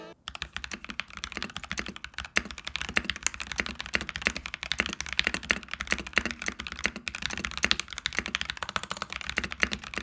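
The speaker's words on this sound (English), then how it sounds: "here's a short sound test of what the keyboard will sound like out of the box" Steady, fast typing on a stock pre-built NovelKeys mechanical keyboard, a dense run of clacky keystrokes close up with no voices, continuing throughout.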